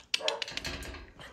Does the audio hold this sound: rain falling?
no